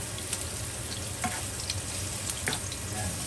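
Ginger sizzles steadily in a hot pan as the first step of a Filipino-style chicken curry, a soft continuous frying hiss with a few brief stirring clicks and scrapes, no talking.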